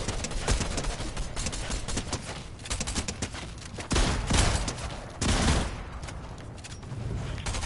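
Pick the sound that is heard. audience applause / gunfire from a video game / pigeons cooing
gunfire from a video game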